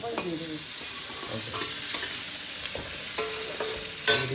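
Cumin and onion frying in mustard oil in a home kitchen, a low steady sizzle broken by several sharp clinks and scrapes of a spatula against the pan, near and fairly quiet.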